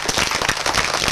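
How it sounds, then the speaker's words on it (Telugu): A short burst of audience clapping for a young girl, Ramya Samhitha, right after her song, dense and steady for about a second. "రమ్య సంహితకి అందరు గట్టిగా క్లాప్స్ కొట్టండి."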